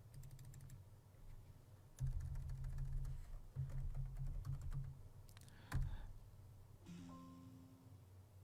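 Typing a folder name on a computer keyboard, quick bursts of soft close key clicks in short groups, followed by a faint chime-like tone near the end.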